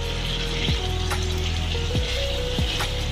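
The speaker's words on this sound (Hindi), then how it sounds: "इससे हम अब इसको प्याज को थोड़ा सौते करेंगे।" Onions sauté in two or three spoons of oil in a pan for beef masala curry, a loud continuous sizzle with a few spoon stirs and clinks, no talking.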